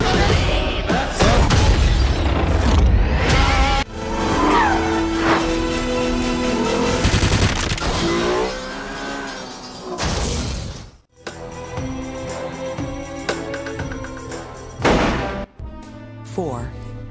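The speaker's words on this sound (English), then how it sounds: "Every crash of shattered glass and colliding cars feels all too real as enemies get swept off the road" Film car-chase action: cars colliding and glass shattering amid booming impacts and engine roar, loud continuous crashes with sharp bursts near the end, layered with score and a voice talking over it.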